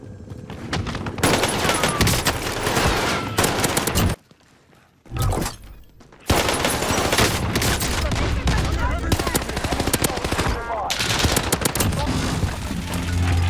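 Automaton rifle in the video game Warzone firing long automatic bursts, dense rapid cracks with a brief lull midway before the shooting resumes, loud and close, with a voice talking over parts of it.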